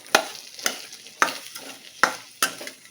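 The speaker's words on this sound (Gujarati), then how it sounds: "બધું જ સરસ મિક્સ કરી લેવાનું છે." A spiced potato filling for fasting dosas, with lemon juice, is stirred and pressed in a pan over a low flame, giving five distinct, spaced scraping knocks of the spoon over a faint sizzle, close and clear.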